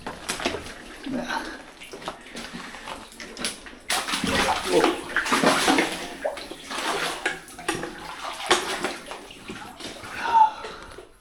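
Water sloshes and splashes as someone wades in waders through cold water inside an old mine adit, with irregular close splashing steps and people talking over it.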